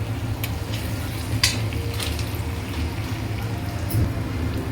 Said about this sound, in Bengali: এবারে একটুখানি এটাকে কষাবো।